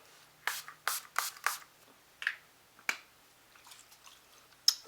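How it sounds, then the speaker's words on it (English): Several short hissing sprays of makeup setting spray in quick succession, close by, followed by a few quieter rustles and a final sharp burst. "let me spray it now"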